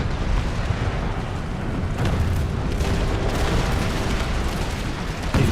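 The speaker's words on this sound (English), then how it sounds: "We get my siege artillery to start engaging enemy field artillery." Siege artillery in Empire: Total War, a heavy rolling rumble of cannon booms thundering continuously over a loud battle din, with no talk.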